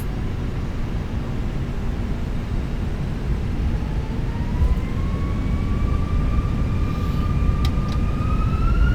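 American Airlines A320 in Microsoft Flight Simulator 2024 on its takeoff roll, a loud steady engine roar with a rising whine building through the run.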